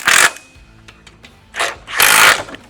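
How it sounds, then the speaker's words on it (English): Bolts being tightened onto a bull bar nut plate inside a Toyota Prado 150 chassis: bursts of power-tool whirring from an impact driver, separated by short clicks and rattles, close and loud. "And all you gotta do is just tighten it up"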